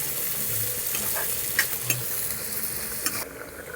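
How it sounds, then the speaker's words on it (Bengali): Chopped onions fry and sizzle in hot oil in a kadai, a steady hiss with a few sharp crackles and spatters, stirred now and then, close up with no voices. "আমার কড়াই গরম, তেলও গরম হয়ে গেছে। আমি ডালবো পেঁয়াজ।"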